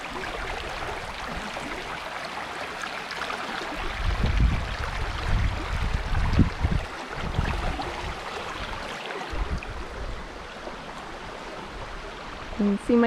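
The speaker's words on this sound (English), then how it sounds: "This is a pretty little river." A small river with a strong current rushes in a steady broadband wash, swelling louder in the middle with nearby splashing in the water.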